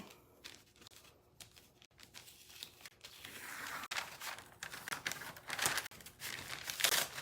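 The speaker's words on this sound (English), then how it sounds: "pulling off painter's tape" Painter's tape peeled off a botanical print on a craft table, a soft continuous crinkling and tearing rasp that grows louder toward the end, close and fairly quiet, with no talk.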